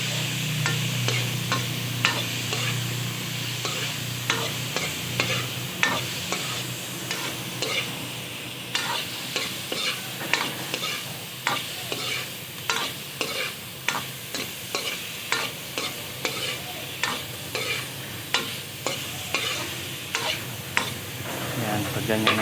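A spoon scrapes and stirs through a mung bean dish frying in a pan, giving steady rhythmic strokes over a constant sizzle, close up and without talk.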